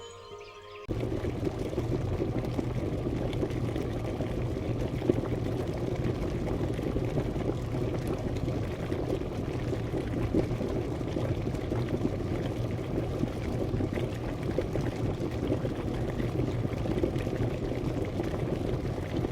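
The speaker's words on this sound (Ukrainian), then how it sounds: "Послухайте, як закипає вода в електрочайнику." An electric kettle heating water toward a boil gives a steady, dense rumbling hiss that starts abruptly and holds at an even level, with faint bubbling texture throughout and no talking.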